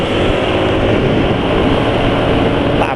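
A motorcycle engine running on Idemitsu 10W-40 JASO MB oil mixed with corn oil revs steadily, a loud, dense mechanical roar that holds without pause throughout.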